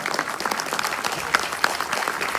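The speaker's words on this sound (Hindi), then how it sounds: "जोरदार तालियां कम नहीं होनी चाहिए" An audience at a CSS Day 2023 celebration at the Ambedkar International Centre in Delhi claps in steady, dense applause throughout, loud and sustained with no pause.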